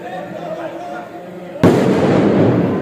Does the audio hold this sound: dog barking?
no